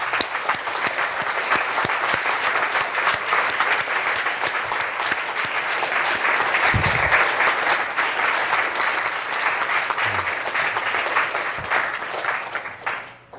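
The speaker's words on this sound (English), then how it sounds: "So I think they deserve a round of applause." An audience at a mathematics summer school lecture applauds the organizers, sustained dense clapping from a full room at a constant, fairly loud level until it trails off near the end.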